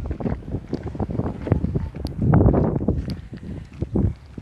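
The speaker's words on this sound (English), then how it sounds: "So windy" Strong wind near a coconut-lined area outside Mombasa rumbles and gusts against the microphone, surging loudest midway through in a close, blustery wash of noise.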